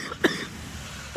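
A single short cough, followed a moment later by a softer second cough, against a quiet background.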